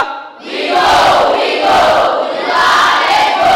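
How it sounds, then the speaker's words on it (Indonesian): Class 7A students at SMP Nuris Jember shout their class cheer together, a loud, close group chant that surges and holds for a few seconds after a brief quiet start. "mari kita cek suara dulu dengan yel-yel kelas"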